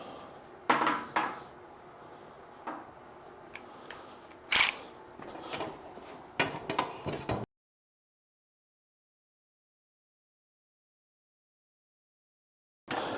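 Bolts on a Massey Ferguson 35 Deluxe tractor seat being tightened: a few scattered metallic clicks, ratcheting and knocks close up, a sharp clank in the middle, then a long silence before one last short sound.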